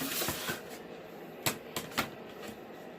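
A blade slices through foam board in a few quick, dry scratchy strokes close by, three short bursts standing out over a faint background hiss.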